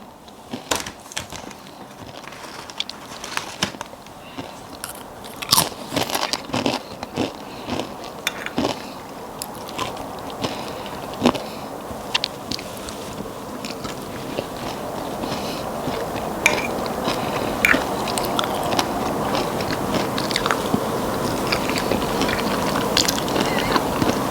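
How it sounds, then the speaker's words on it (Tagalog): Potato chips crunched and chewed close up, a dense run of sharp crisp crackles and bites that grows steadily busier and louder. "ang itsura ng chips na kinakain ko"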